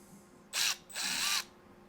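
Two short bursts of a power drill whining as a twist drill bites into a metal knife, the second longer, against a quiet background.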